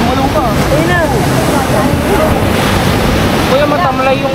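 Ocean surf rolls onto a beach in Zambales as a steady, loud wash of waves mixed with wind buffeting the microphone, while excited voices chatter over it throughout.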